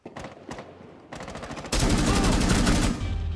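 Rapid gunfire in a tactical shooter video game, starting as scattered shots and swelling into a dense, loud burst of sustained automatic fire up close, with no talking.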